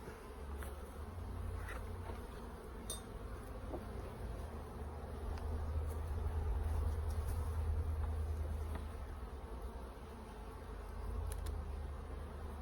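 Honey bees buzz in a steady, dense drone during a full beehive inspection in early July, with the swarm's hum swelling and easing softly throughout and no talking.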